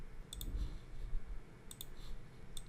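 A computer mouse is double-clicked, giving paired faint, sharp clicks that recur three times over a soft background hum. The clicks sound close by and quiet, and no one speaks.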